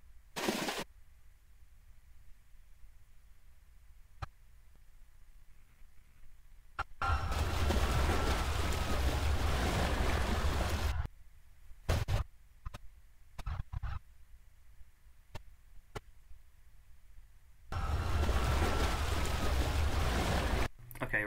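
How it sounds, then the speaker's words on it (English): Bursts of water splashing and churning, made for the sinking of the Titanic with passengers thrashing in the sea, come in several loud, broad washes separated by quieter gaps and brief isolated splashes. "Now for some splashes and sorts when the passengers splashing in the water."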